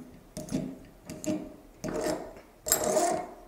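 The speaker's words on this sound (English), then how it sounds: "I'm going to go ahead and pop this cork." Cork being worked out of a bottle of homemade pineapple orange melomel with an old corkscrew: several close, rough twisting and squeaking bursts in a rhythm of short pulls, with no talk over them.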